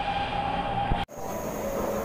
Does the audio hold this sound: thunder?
no